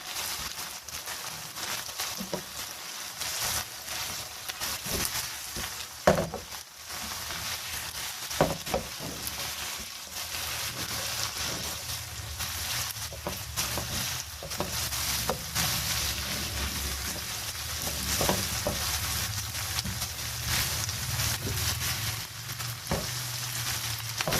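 Carrots being stir-fried in a pan, a steady close sizzle over a long stretch with intermittent scrapes and knocks of a spoon against the pan as they are tossed and mixed.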